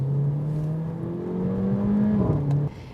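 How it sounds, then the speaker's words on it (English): Exhaust of a Mercedes GLA 45 AMG in sports mode, a steady engine drone rising in pitch before a quick blip and drop at a paddle-shift gear change, then settling lower, close and fairly loud. "sports mode also means there's some wonderful burbles, blips and grunts through the exhaust as you go up and down the 7 gears"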